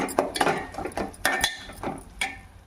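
Spoon scraping and clinking in a pan while omelette masala curry is stirred, with a series of short metallic scrapes and taps at an irregular rhythm, close and moderately loud, with no talking.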